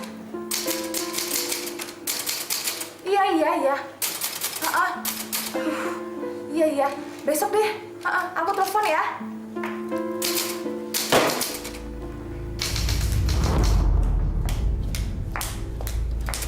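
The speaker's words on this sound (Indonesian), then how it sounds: "Mesin tik tua ini penyebabnya. Udah reot, suaranya berisik banget." Rapid, clattering keystrokes from a rickety old typewriter, loud and close, with brief talking mixed in and a rumbling noise toward the end.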